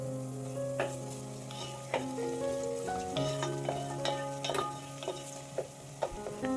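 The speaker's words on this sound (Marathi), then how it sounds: "कांदा आहे हा एकदम सोनेरी रंग येईपर्यंत परतायचा" Chopped onion with a little finely chopped tomato sautés in a pan for a home-style chicken rassa, a steady close sizzle and crackle with scattered pops and light ticks throughout.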